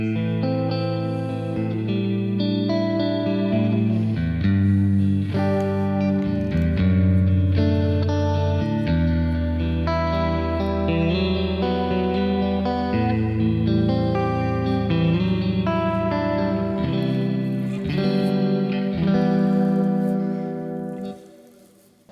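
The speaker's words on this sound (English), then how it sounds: "Slapback echo and chorus." An electric guitar runs through slapback echo and chorus, recreating a Keeley Halo pedal tone on a Kemper Profiler, playing sustained chords and melodic lines with shimmering doubled repeats, loud and continuous before fading at the end.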